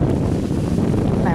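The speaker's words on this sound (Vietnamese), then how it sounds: "Cái này mình nghĩ là chắc gió mùa tây nam quá." Strong southwest monsoon wind sweeps across the sea near an overloaded barge heading out into rough water off Kiên Giang. The gusts roar loudly and steadily throughout, buffeting the microphone with a dense, continuous rush.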